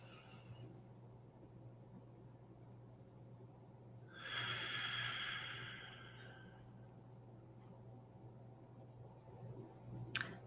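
A single soft, slow breath, drawn in and let out during a breathing exercise, rises faintly over a low steady room hum, followed by a small click near the end.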